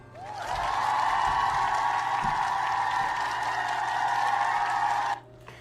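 A canned cheer sound effect plays on a talk show, a loud sustained crowd roar of about five seconds that cuts off abruptly, with no speech over it.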